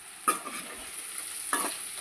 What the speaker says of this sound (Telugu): కారం పొడి బాగా మిక్స్ అయ్యేటట్టుగా బాగా కలుపుకున్నాను